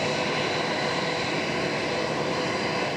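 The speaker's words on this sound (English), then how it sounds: "the first plane to leave the tarmac in Launceston" The first airplane departing the tarmac at Launceston airport, with fire crews giving it a water cannon salute, produces a steady, loud engine roar that holds unbroken throughout.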